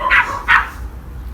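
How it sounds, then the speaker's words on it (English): Neighbourhood dogs barking outdoors, two loud, close barks in quick succession before the yard falls quiet, with no voices over them. "Can you hear all the dogs barking? Every dog in the neighbourhood."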